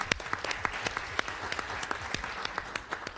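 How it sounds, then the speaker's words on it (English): School staff receive applause at a regular school board meeting, a clear, moderately loud round of clapping. Individual hand claps stand out sharply against a steady crowd patter that lasts the whole few seconds. "Let's give them a round of applause."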